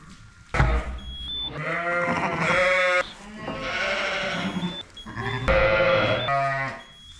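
Sheep and lambs bleating inside a sheep shed during lambing season, several loud, close calls overlapping in long wavering bursts with brief pauses between them.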